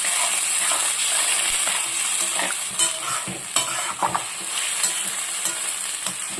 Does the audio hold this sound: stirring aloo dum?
yes